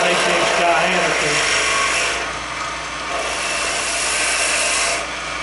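On a lathe, a turning tool cuts down the center of a wooden dowel to about half an inch diameter, giving a loud, continuous scraping and rasping hiss that dips briefly mid-cut and again near the end.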